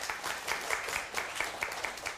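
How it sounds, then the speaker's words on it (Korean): An audience at a televised lecture on buying a home claps briefly, with distinct, fairly rhythmic hand claps over a light crowd background. "박수 한번 쳐주세요."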